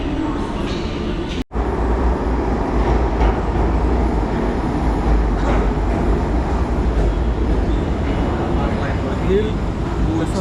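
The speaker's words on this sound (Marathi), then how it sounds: "ज्या मेट्रोने आम्हाला जायचं ते मेट्रो आलेली आहे" A metro train pulls in at a station platform in Nagpur, a loud, continuous rumble and rail noise with a sharp break early on, while people talk over it throughout.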